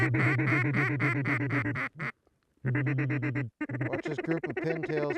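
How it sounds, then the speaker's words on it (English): Pintail ducks quack loudly and close during a field hunt in Canada, rapid repeated calls in bursts broken by short pauses. "Watch this group of pintails coming here."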